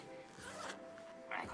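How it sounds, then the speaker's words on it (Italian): A zipper on the side of a garment is pulled in short, quiet rasping strokes, with soft voices nearby. "La zip è sul lato."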